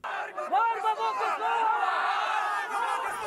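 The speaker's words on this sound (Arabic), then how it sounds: "رفعوا لافتات ضد باكستان ورددوا هتافات ضد استيلاء طالبان على السلطة" Afghan protesters, including crowds of women and men, chant slogans against Pakistan and the Taliban, a dense wall of raised voices with overlapping shouts that fills the whole stretch at steady, loud volume.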